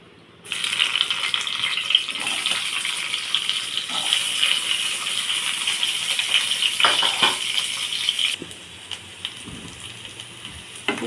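Loud, continuous hiss of onion frying in hot oil starts abruptly and holds steady, with occasional clinks, then eases slightly near the end.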